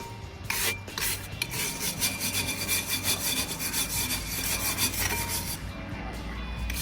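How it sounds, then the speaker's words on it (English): Steady, harsh wire brushing scrubs rust off used VW Polo brake parts, a close and continuous rapid scratching that runs throughout with no talking. "Good wire brushing."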